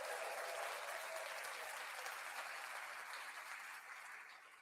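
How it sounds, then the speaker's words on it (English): A round of applause, continuous clapping at a moderate distance that slowly fades toward the end. "give yourself a round of applause"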